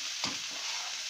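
Crumbled khoya milk solids roast in a pan over a slow to medium flame, a soft continuous sizzle with a single faint stirring scrape, quiet and close.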